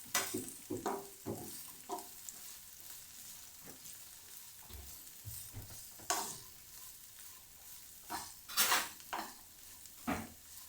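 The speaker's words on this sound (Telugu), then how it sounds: "ఇక్కడ మధ్యలో మనం క్యాప్సికమ్ అండ్ పీస్ కూడా వేసేసుకున్నాం. కొంచెం సేపు ఫ్రై చేయాలి" Capsicum, peas and other vegetables fry in a pan for veg fried rice, a continuous sizzle broken by repeated scraping stirs and soft clanks of a utensil against the pan, with no voices.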